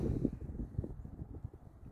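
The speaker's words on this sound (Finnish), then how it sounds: "Tuuli on kyllä aika kova" Gusty wind on a fell hiking trail between Hetta and Pallas buffets the microphone in low, rumbling bursts, with no other clear sounds.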